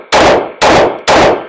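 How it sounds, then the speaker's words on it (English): Three loud, close Glock pistol shots sound at a steady rhythm about half a second apart, each a sharp blast with a short ringing decay and no voices. "let's just do some shooting"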